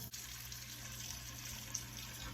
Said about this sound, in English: I'm filling my sink with cold water.